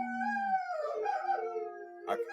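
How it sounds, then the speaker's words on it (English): German Shepherds howl together indoors, several long overlapping wavering tones that slide downward, fairly close and clear, ending with a short yip. "You have wolves in your house? They're harmonizing."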